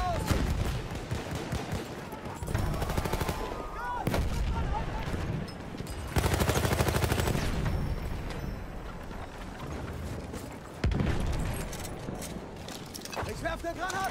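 Battlefield 1 game battle with gunfire, scattered shots and heavy bursts alongside rumbling explosions and hoofbeats, loud and dense, with German voices shouting over it.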